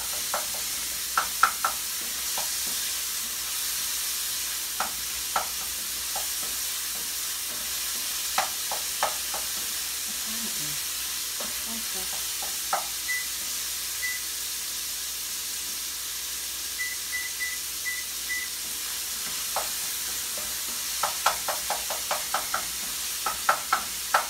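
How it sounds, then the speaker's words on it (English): Sausage cooks in a pan with a soft, steady hiss, broken by scattered small pops and light crackles over about twenty seconds. It stays quiet and close, with no talking. "But cooking up my sausage."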